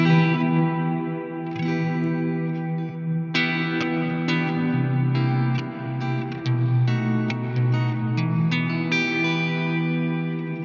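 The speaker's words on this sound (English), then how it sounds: "And you have the 80s, which is more of a hall rack mount type of situation for your reverb" An electric guitar plays sustained chords and single notes through a Strymon reverb pedal set to an 80s hall rack-mount reverb, loud and close, each note followed by a long, dark, washing tail.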